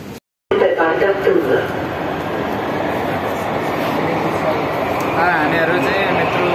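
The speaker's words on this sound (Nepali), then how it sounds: "अहिले चाहिँ हामी मेट्रोमा बसिरहेछौँ होइन।" Riding inside a moving metro train: a loud, continuous rumble and whine of the carriage on the rails, with indistinct voices of passengers underneath after a brief cutout at the start.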